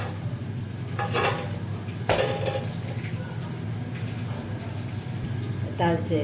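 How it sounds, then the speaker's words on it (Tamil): A cooking pot is lifted off the stove and another kadai set down for tempering a Tirunelveli fish curry, with a few sharp metallic clanks and scrapes spaced apart over faint background talk. "இதை அப்படியே இறக்கிட்டு வேறு கடாயை வச்சு"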